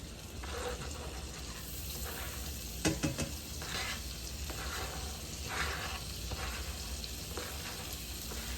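Garlic and scallion whites sizzle in butter in a pan over medium heat, a steady close frying hiss with a few brief clinks of stirring.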